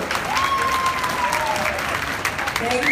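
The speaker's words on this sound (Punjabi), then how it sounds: "ਜ਼ੋਰਦਾਰ ਇੱਕ ਵਾਰੀ ਤਾੜੀਆਂ ਮਾਰੋ।" An audience at a Mother's Day celebration in Surrey, Canada applauds steadily, a dense even roar of clapping with a faint voice and a gliding tone drifting through it.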